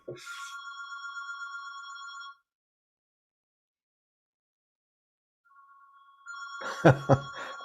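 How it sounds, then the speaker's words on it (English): An electronic office telephone ring trills for a couple of seconds, goes silent, then rings again, joined by a few clattering knocks nearby. "Speaking of telephones, all right? Here's one ringing right now."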